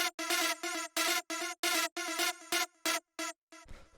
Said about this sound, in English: The next thing that we have here is the saw wave stab,